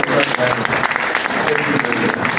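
A church or community gathering audience applauds together, dense sustained clapping filling the room at steady volume, with a voice talking faintly underneath.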